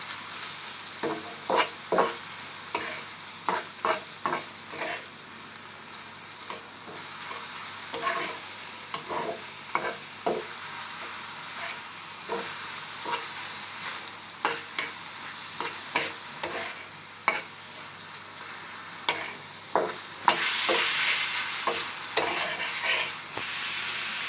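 Minced chicken sizzles softly in a pan while a utensil stirs and scrapes through it in irregular knocks, with a louder hiss of frying swelling near the end.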